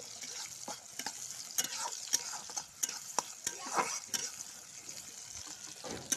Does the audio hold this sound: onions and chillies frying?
yes